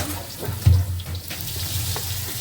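Duck meat dropped into hot mustard oil in a pan with onions already frying, giving a steady broadband sizzle with a brief louder burst as the meat hits, continuing evenly without talk.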